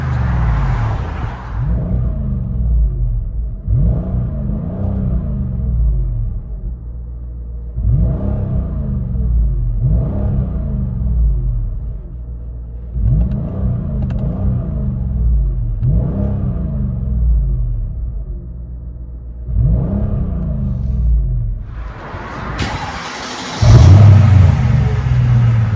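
A Mercedes S55 AMG with a 5.5-litre V8 and X-pipe exhaust, heard from inside the cabin, revs repeatedly in a series of deep, loud throaty blips that rise and fall. Between the blips it settles back to a rumbling idle.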